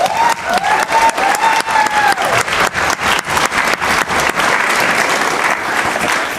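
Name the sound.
graduation audience applause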